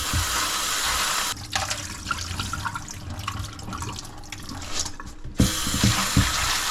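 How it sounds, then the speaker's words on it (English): Red beans are rinsed in water, with a burst of running water and rattling, sloshing sounds in a bowl or sink, close and busy for several seconds before settling into quieter handling. "we'll give them a good little rinse in water"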